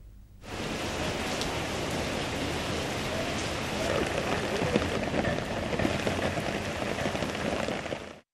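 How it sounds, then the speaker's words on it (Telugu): Heavy monsoon rain in Telangana pours down steadily, a dense, loud, unbroken hiss that sets in after a brief quiet start and holds to the end. "రెండు రోజులుగా రాష్ట్ర వ్యాప్తంగా భారీ వర్షాలు కురుస్తున్నాయి"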